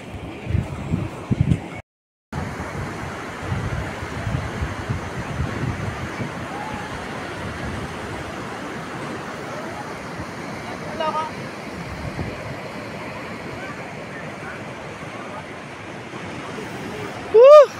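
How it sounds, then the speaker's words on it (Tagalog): Sea waves wash onto a beach at Morong with a steady broad hiss of surf and wind buffeting the microphone, while excited voices call out in the foreground and a brief gap interrupts the noise early on. "An, wow, dagat!"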